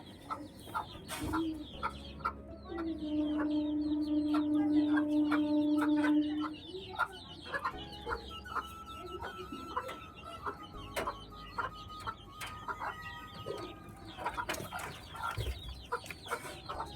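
Domestic pigeons are let out of their coop, giving scattered coos and short calls with occasional flutters and knocks, moderately close and with no talking.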